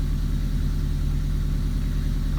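A Subaru EA82T turbo engine on Megasquirt MS3x idles steadily nearby, a continuous low hum with a constant rumble throughout, its RPM dropping back as it warms up.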